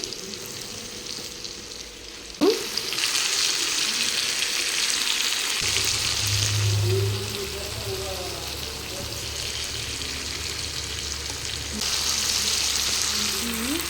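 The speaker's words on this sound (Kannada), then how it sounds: "ಈ ಥರ ಫ್ರೈ ಮಾಡಬೇಕು ನೋಡ್ರಿ" Prawns fry in a pan with a steady, loud sizzle, briefly jolted by a clatter as they go in, then a continuous crackle with light stirring; a voice speaks faintly beneath.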